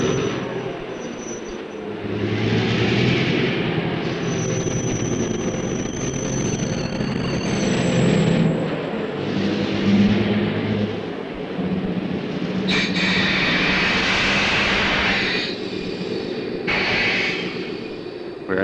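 A 1966 CPR train engine reverses toward a track switch on the line to Rossland, giving a steady, loud mechanical rumble throughout with no talk.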